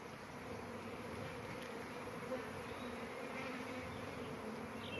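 Honeybees buzz at an open hive in a dense, steady drone of many wings, close and continuous but fairly quiet, with no voices.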